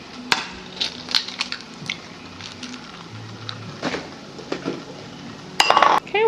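Fork scrambling three eggs in a bowl, a light scraping clatter with sharp clinks of metal against the dish, close and intermittent, growing busier and louder toward the end.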